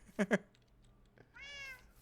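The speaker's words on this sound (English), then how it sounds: "Meow, I hear you. I'm a kitty cat." A cat meows in a video game, a single rising, strained meow late in the clip, faint against a quiet background after two brief soft thumps, with no talk.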